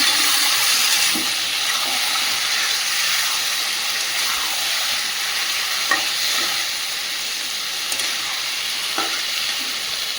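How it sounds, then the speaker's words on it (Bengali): Marinated chicken sautéing in a hot pan gives a loud, steady sizzle throughout, with occasional soft scrapes from stirring. No one speaks. "এখানে ম্যারিনেট করে রাখা চিকেনটা দিয়ে দেবো। ভালো করে কষাতে থাকবো।"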